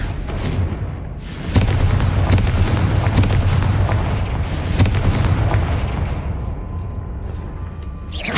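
Repeated fire-blast spell explosions from the Confringo charm in the Hogwarts Legacy video game, a dense run of loud booming bursts and crackles over a steady rumbling game score, with no talk.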